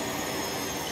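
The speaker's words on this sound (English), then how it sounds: "it's a jet engine powered motorcycle" Jet-engine-powered motorcycle in the racing game Project CARS 2, a loud, steady roaring whoosh filling the brief moment with no talk.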